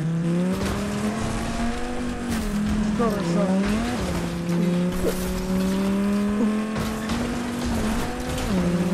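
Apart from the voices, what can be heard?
car engine and tire squeal in Fortnite video game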